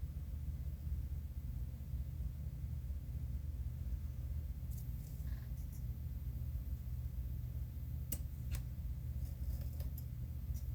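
Scissors cut out a paper template, with snips heard as faint crisp clicks over a heavy low background rumble. A short cluster of snips comes near the middle and another near the end.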